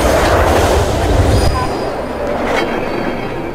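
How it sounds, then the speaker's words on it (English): A train rolls past in the video game Hitman Absolution, a loud, steady rumble with metallic wheel squeal and faint clickety-clack that eases slightly after the first second and a half. "Oh, train's back."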